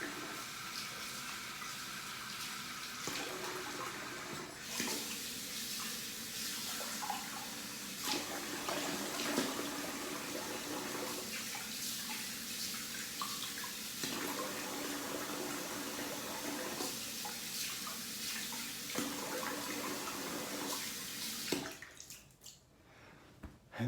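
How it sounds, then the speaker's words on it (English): Tap water running into a sink while rinsing the face after shaving, a steady gush interrupted by splashing and changes in flow, fairly close and quiet, ending with the tap shut off. "I am gonna rinse the face though."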